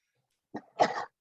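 A single close human sneeze, a short intake followed by a sharp burst, in a quiet room.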